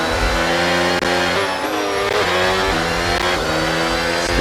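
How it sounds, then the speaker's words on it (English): A McLaren F1 car engine in the F1 video game holds loud, high revs for a burnout before the race start, a sustained buzzing roar with small dips and surges in pitch. "We'll try and get a nice burn out right before the start."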